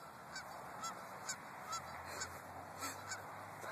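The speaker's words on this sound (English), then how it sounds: "I love snow geese more than anything. You can hear them talking." Geese honk in a loose, repeated series of calls, faint and distant, over a steady background hiss.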